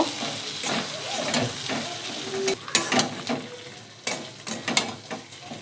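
Eggplant and hilsa being stir-fried in masala for a Bengali oil-and-chilli curry, a close, continuous sizzle broken by repeated scraping and clattering stirs in the pan.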